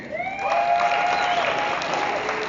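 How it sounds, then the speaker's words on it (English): A crowd claps and cheers steadily for a couple of seconds, a dense wash of applause with a few whoops rising above it. "Round of applause if you have not seen Shazam yet"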